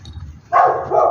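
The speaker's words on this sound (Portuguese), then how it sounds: "Tem cachorro aí." A dog at an abandoned rural place gives a single loud, close bark after a short quiet moment.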